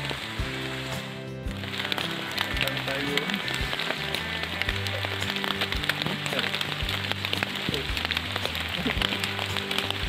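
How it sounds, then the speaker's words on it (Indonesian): Steady rain falls on a mountain trail on Gunung Slamet, a dense, continuous patter throughout that sits under a sustained tonal background, most likely music. "Baru beberapa langkah berjalan, hujan pun turun."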